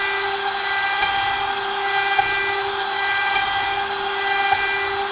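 A CNC router with a small quarter-inch bit makes its finishing pass on a guitar fretboard, a steady high-pitched whine with a constant tone and a faint cutting rasp beneath it, loud and unbroken throughout, with no voices.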